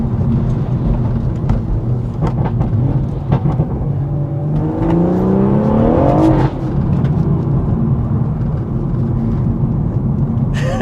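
A BMW M140i Shadow Edition hot hatch, tuned to 460 bhp, accelerates hard on a damp road, engine pitch climbing steeply before cutting off abruptly, heard close over road noise.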